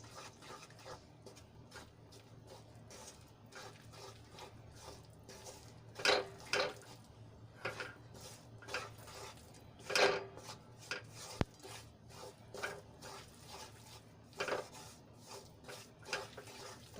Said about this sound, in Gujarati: તો એમાં આપણે લોટ એડ કરી લઈશું અને સરસ રીતે આપણે ઘીમાં એને મિક્સ કરી લઈશું